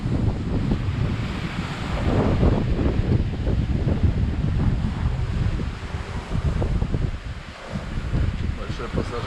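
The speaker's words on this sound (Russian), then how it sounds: "Чистый ветер, сразу подуло 22" Strong wind roars over a sailing yacht, an Amel 55, at sea on a Caribbean to Colombia regatta leg. Waves splash against the hull under a steady, dense rumble of wind and water.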